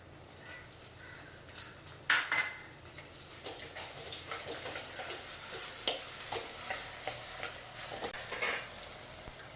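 Shallots and tomatoes sauté in a pan with a soft steady sizzle, broken by occasional spatula scrapes and stirring taps, close and fairly quiet.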